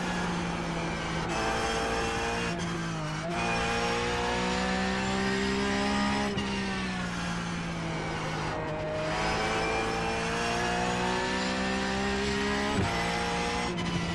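Race car engines rev and drone steadily through a crash in the iRacing sim, with tire squeal and sudden pitch drops as cars lose speed, the engine noise loud and continuous throughout.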